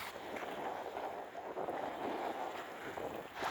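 Strong wind in an outer harbour on a kayak outing, a steady rushing gust with microphone buffeting and faint water sounds, fairly quiet overall, no talking.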